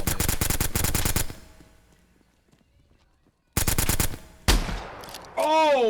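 A shotgun in a SOCOM-style online shooter fires in rapid bursts of loud, close blasts. A short lull follows, then another burst and a sharp single shot, before excited voices break in near the end.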